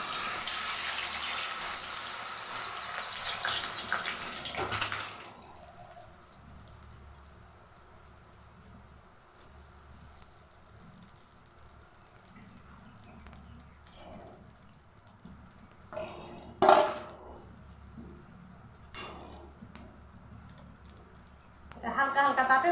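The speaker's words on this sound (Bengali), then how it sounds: "তেলটা গরম হয়ে গেছে, তো আমি ভুজিয়াগুলো একসঙ্গে দিয়ে দিলাম সবগুলো" Bhujia chanachur frying in hot oil on a gas stove, with steady soft sizzling and crackling at close range. Brief clatters and scraping sounds break through now and then, and the flame is turned lower partway through.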